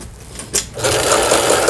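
Cheap Chinese-made Michelle sewing machine running during repair, a fast mechanical whirring chatter that starts softer, has a brief knock, then runs loud and steady up close.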